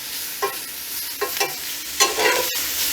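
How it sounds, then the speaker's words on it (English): Vegetables fry in canola oil outdoors, a steady sizzle broken by a few sharp scraping stirs, close and moderately loud with no talking. "we got our veggies cooking up here real good"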